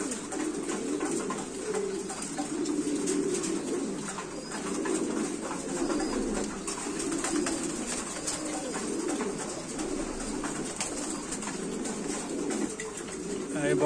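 A Gaditano pigeon pair coos steadily and close by, a continuous low rolling murmur that carries on without pause under faint room noise, with no speech heard.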